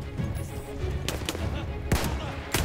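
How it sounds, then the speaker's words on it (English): Gun firing in the Battlefield 1 campaign, several sharp, loud shots scattered across the moment with booming battlefield noise and echoing reports in between. "I kinda like this gun, to be honest."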